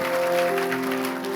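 Congregation clapping at a church service, a brief burst of steady applause with sustained tones underneath.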